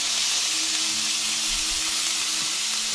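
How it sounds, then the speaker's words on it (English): Steady, bright sizzle of pork adobo frying in a hot pan with vinegar, a continuous close hiss with faint low bubbling underneath and no talking. "that's been sizzling away for a few more minutes"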